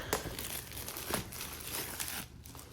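A Magic: The Gathering card pack's foil wrapper is pulled open by hand, giving close, continuous crinkling and tearing rustles that are fairly quiet, with no voices.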